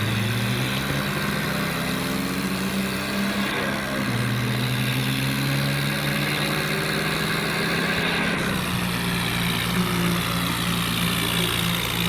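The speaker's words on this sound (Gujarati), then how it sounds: "અમે તો ફટાફટ મારું ટ્રેક્ટર લઈને નીકળી ગયા સીધા નદી તરફ" A modified tractor engine drones steadily and loudly throughout while driving toward a river, its low throbbing pitch shifting briefly near the end before settling back into a constant rumble.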